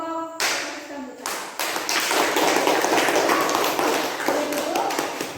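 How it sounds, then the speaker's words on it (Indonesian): Classroom applause for a forest ecosystem student group, a burst of many hands clapping steadily for several seconds after a brief pause, fairly close and lively. "beri tepuk tangan untuk kelompok ekosistem hutan"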